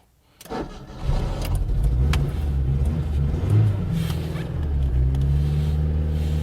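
A car engine cranks and catches after winter storage, then settles into a loud rough running rumble with a couple of revs, close by and with no talk.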